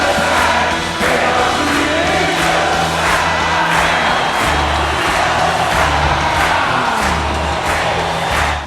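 A huge concert crowd recreated for a film roars and chants continuously, loud and dense, with rhythmic surges of collective shouting throughout.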